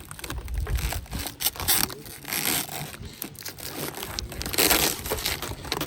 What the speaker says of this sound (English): They're wrapped in this plastic to keep them from getting scratched